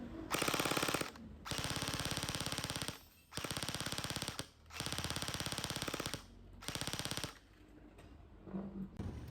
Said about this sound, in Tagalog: Range test ng Senway SLR short version. Firing full auto.